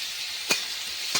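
Onions and cumin seeds frying in a pan for an eggplant curry, giving a steady hiss of sizzling oil with two brief louder spits or stirs standing out, close and alone.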